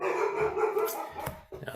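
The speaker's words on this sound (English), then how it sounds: "sorry about the dog barking" A dog barks in the background during an online committee meeting, a short burst of loud, close barks over room noise, with a brief word spoken.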